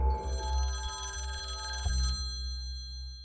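Telephone bell ringing in a sustained metallic trill with a slight break partway, then fading, set over a low droning hum, moderately loud and without voices.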